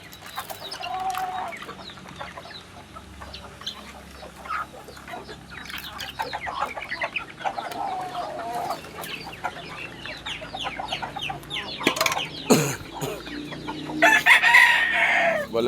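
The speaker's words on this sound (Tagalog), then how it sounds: "yung mga manok natin" Chickens cluck busily and close by, with a rooster crowing loudly near the end; no one speaks.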